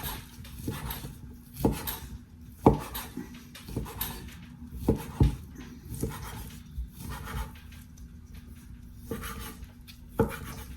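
Smoked turkey is chopped finer with a knife on a cutting board, giving irregular, fairly close thuds and taps spaced unevenly over a quiet background.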